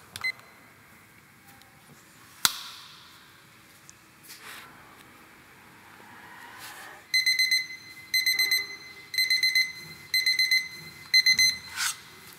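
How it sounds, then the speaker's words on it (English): A kitchen timer alarm sounds close and clear as five short bursts of rapid electronic beeping in a steady on-off rhythm, following a few scattered clicks and knocks in a quiet room. "Now we have to set the timer."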